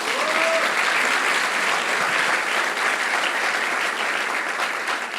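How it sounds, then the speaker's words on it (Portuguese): A church congregation in Lisbon applauds, a steady, even wash of many clapping hands that holds at a constant level across the whole stretch. "Você pode dar uma salva de palmas a Jesus?"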